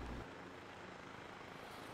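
Helicopter rotor and engine drone in a video game death race, a steady loud whirring roar throughout with no talk.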